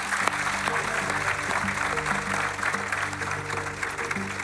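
A studio audience at a televised quiz show applauds a contestant, dense continuous clapping over a steady musical bed, fairly loud and sustained.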